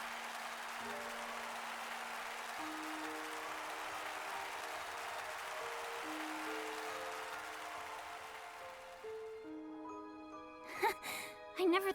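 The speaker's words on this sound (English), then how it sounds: "Their performance finished, the pair left the stage, to the sound of thundering applause." Thundering applause from a large audience after a stage performance in Octopath Traveler II swells as a steady, dense wash of clapping under sustained music tones, then gives way to brighter chimes and short accents near the end.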